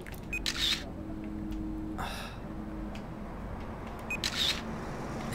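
Camera shutter clicks in the video game Watch Dogs 2, two crisp shutter snaps a few seconds apart over steady game ambience, with a voice talking between them.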